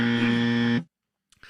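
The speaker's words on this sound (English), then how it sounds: "now I'm going to hit you with the buzzer?" A game-show style buzzer blares as a single loud, harsh, steady tone for just under a second and then cuts off abruptly, followed by brief quiet and a faint trailing sound.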